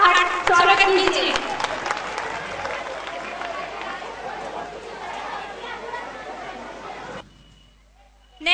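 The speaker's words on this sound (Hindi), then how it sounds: "जोरदार तालियों से इनका स्वागत कीजिए।" At a school annual function, a crowd applauds the winning kho kho and kabaddi team, loud clapping mixed with cheering and chatter that slowly tapers off, then stops abruptly into near silence.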